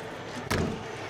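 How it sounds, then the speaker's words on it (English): A strut-assisted slam-latch baggage door on a 2022 Grand Design Solitude 380FL-R fifth-wheel RV shuts with a single loud, sharp slam about halfway through, against quiet outdoor background. "On the strut assisted slam latch baggage doors"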